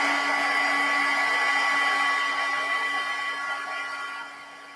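Embossing heat tool blowing steadily to heat set stamped embossing powder, a continuous close whirring hiss with a fixed motor whine that softens slightly near the end, no talking.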